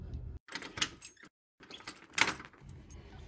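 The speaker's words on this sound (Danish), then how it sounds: "Jeg låser døren op nu." A door is unlocked and opened close by, with a metallic click, a rattle and a creaking scrape in short separate bursts.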